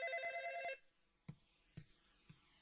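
A telephone rings with a bright electronic ringtone in a Shin chan cartoon, then cuts off and is followed by a few soft, isolated clicks and knocks in a quiet room.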